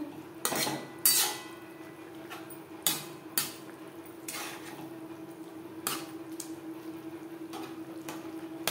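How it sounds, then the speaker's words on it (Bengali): Fried jute leaves are stirred into cooked vegetables in a pan, with a spoon clinking and scraping against the metal in irregular taps over a low, steady background hum. "সবজির সাথে পাট শাক বেশ ভালো করে মিক্সড করে দেব।"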